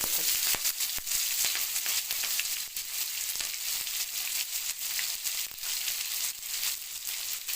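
Curry leaves and lentils (dal) sizzling and crackling steadily in hot oil for a bean poriyal stir-fry, a close, continuous frying hiss with occasional sharper pops and no talking.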